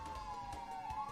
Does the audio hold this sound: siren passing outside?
yes